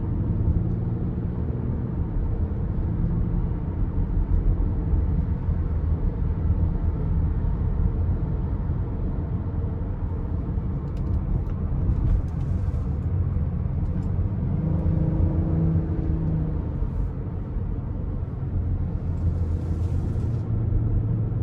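Cabin noise inside a 2022 Kia Carnival LXS minivan driving in smart mode along curving roads, a steady, loud, unbroken low road and engine rumble with faint ticks.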